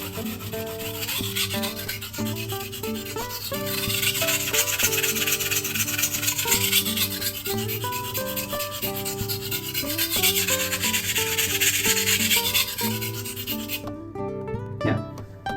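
A slaughtering knife is sharpened on a coarse abrasive whetstone with rapid, repeated close scraping strokes for about fourteen seconds over a faint tonal background, then the rubbing stops abruptly.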